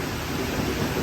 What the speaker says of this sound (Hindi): देखो कितनी तेज़ बारिश हो गई है